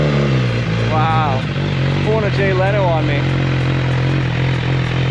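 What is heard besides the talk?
2023 MV Agusta Brutale motorcycle engine starting and revving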